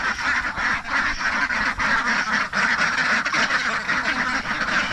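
A flock of domestic ducks quacking continuously and loudly at close range during egg collection, a dense overlapping chorus of harsh calls with no pause.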